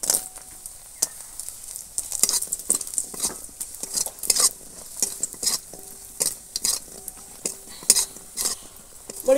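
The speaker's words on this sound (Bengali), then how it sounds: "বড়িগুলো ভেজে নেব" Lentil dumplings (bori) frying in oil with steady sizzling, broken by repeated clinks and scrapes of a spatula stirring against the pan throughout; no talking.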